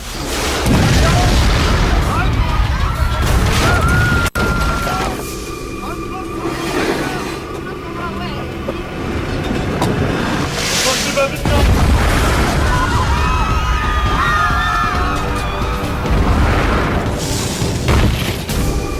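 Heavy cannon booms and blasts, stone-ball bombardment of Constantinople, roll out repeatedly amid a loud, chaotic din, with a voice speaking over parts of it.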